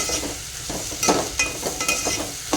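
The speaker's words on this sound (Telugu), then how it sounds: "ఎల్లిగడ్డలను కూడా వేసేసుకుందాం" Garlic frying in oil for an egg curry: continuous hot sizzling with a few sharp stirring scrapes and pops, close and fairly loud, with no talk.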